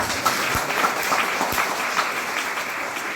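A crowd at a Swaminarayan temple Shakotsav festival gathering in Vadaj claps for a devotee. The applause is dense, continuous and fairly loud throughout.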